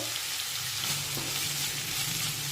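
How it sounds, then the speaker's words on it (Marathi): Thinly sliced onion softening in hot tempering oil, a continuous close crackling sizzle, fairly quiet and even, with no talk. "आता हा कांदा हलकासा मऊ होईपर्यंत शिजून घेऊ"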